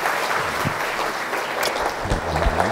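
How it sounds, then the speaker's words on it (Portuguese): An audience applauds Glaucio Cordeiro, a dense, steady burst of clapping from many hands that holds at an even loudness throughout. "Uma salva de palmas para ele"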